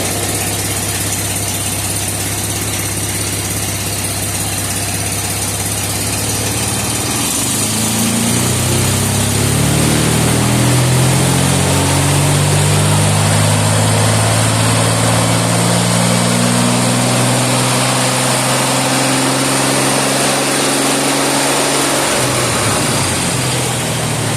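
A car engine with a Ford C4 automatic transmission runs loudly and continuously, idling at first and then shifting to a deeper, rising drone as the gears engage, alone with no talk.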